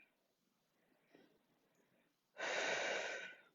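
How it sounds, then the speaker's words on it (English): A slow, deep breath during a workout stretch, a faint soft inhale followed by a loud, long, airy exhale close to the microphone. "Let's take 2 more really slow breaths right here"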